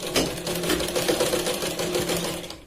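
Close and loud, a sewing machine stitches piping onto a katori blouse in a rapid, steady chatter of needle strokes that fades slightly at the end.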